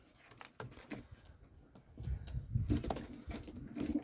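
Yellow Czech show pigeons coo in a pigeon loft, low soft rolling coos repeating in the second half, with light wing flutters and tapping scattered through a quiet room.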